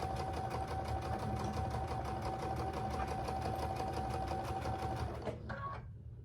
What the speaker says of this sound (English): taking it back to the machine, sewing that 1/4 inch seam